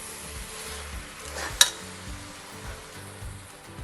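Cauliflower and peas frying in a pan for a mixed vegetable gravy curry, a steady close sizzle with scraping stirs and one sharp clink of utensil against pan midway.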